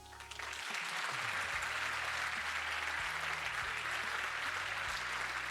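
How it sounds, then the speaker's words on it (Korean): A studio audience breaks into steady congratulatory applause, a dense even wash of clapping that swells in quickly and continues without a break, with a faint low hum beneath. "축하의 박수"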